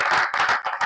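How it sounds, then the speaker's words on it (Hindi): A group applauds for Sujit ji during a one-day meeting in the Phulwari Sharif assembly area, in two or three close, loud bursts of clapping with brief pauses between them. "इसके लिए ताली लगा सुजीत जी"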